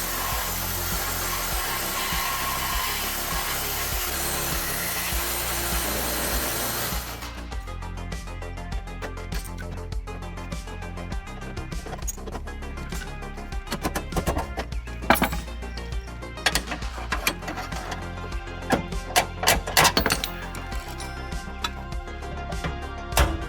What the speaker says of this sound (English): Beating, a little bit of cutting, got it out.